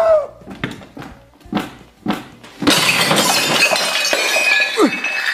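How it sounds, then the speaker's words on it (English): Glass shatters loudly and close after a few thumping bounces of a ball down stairs in a comedy skit, the crash followed by a long ringing spray of tinkling shards. "Why'd you break the glass?"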